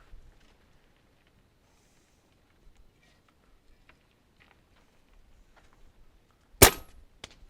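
A single sharp airgun shot from a JSAR Raptor at an outdoor range stands out loud near the end, with a quieter follow-up snap soon after; the rest is mostly quiet.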